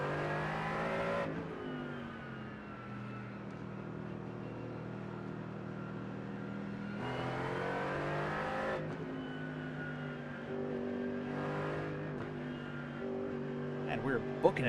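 A Porsche GT4 race car engine in the iRacing simulator at Road Atlanta, revving steadily through the gears with rising pitch sweeps and shift drops on a warm-up lap, a driver talking continuously over the engine.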